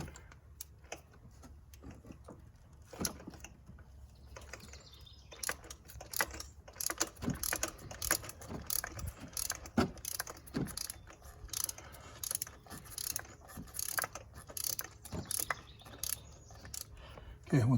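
A ratchet with a 14 mm socket loosens a spark plug on a Toyota Corolla, giving repeated close metallic clicking in uneven bursts across the whole stretch, with light handling knocks between strokes.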